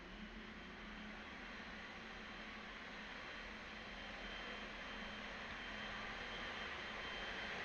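Jet aircraft engines running at Perth Airport as a plane arrives at its bay, with one engine spooling down while the other keeps turning; a loud, steady broadband roar holds throughout, slightly swelling toward the end.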